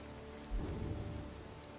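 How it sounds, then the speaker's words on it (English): Steady video game rain patters on a surface at night, with a soft low rumble swelling briefly partway through, quiet and continuous, in a Skyrim modpack. "It's raining."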